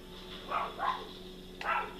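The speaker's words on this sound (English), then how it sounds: "I don't know what what my dog's barking at" Dog barking indoors at night, three short muffled barks close together, heard over a steady low background hum.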